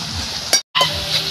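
Julienned potatoes fry in hot oil as they are stirred, making a loud, close, continuous sizzle that breaks off for a split second and then resumes.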